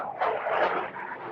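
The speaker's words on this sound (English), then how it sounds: "we heard what seemed to be a Ukrainian jet taking off" A Ukrainian fighter jet takes off, heard as a broad, distant roar that swells briefly and then eases, with no voices over it.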